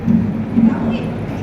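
A dog barks and yips in short bursts close by, with people talking over it throughout.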